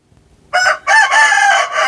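A bantam rooster crows up close, loud and shrill, starting with a short note, then a brief gap, then a long drawn-out call that holds to the end. No one speaks.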